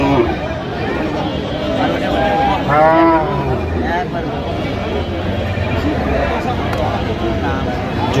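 Cows at a busy Bangladeshi cattle market moo in a few drawn-out calls over constant crowd chatter and bargaining voices, with one clear close moo near the middle.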